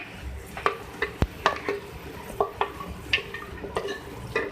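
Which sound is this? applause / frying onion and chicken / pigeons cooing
frying onion and chicken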